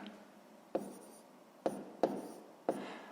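Pen strokes on paper while writing out a sixth-grade math solution, four short scratchy bursts spaced irregularly, close and fairly quiet, with no talking.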